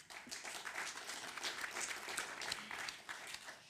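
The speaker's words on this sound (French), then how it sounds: "Merci de l'applaudir." An audience applauds actress Constance Dollé with steady, dense clapping from many hands, sustained throughout at moderate distance and without a voice over it.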